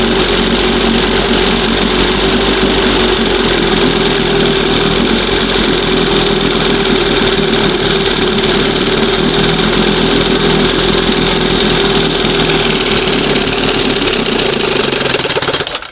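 A 1971 Johnson 20 HP outboard motor runs steadily while warming up, giving off a loud, close, continuous buzzing drone that holds even until it cuts out abruptly at the very end.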